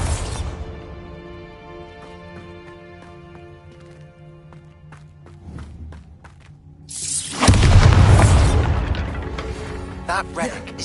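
Bombarda spell blast in the video game Hogwarts Legacy: a sudden loud broadband explosion bursts in after a stretch of sustained game music and decays over a few seconds, with smaller crackling hits following.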